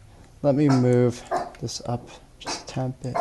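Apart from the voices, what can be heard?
dog barking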